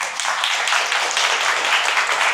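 Steady audience applause at a talk show event about the Bagan Marathon, a dense, even wash of many hands clapping that continues without a break.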